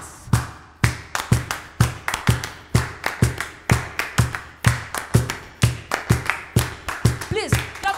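Group of hands clapping a steady Middle Eastern rhythm in a workshop audience, sharp repeated claps in a patterned beat that continue throughout, fairly close and loud.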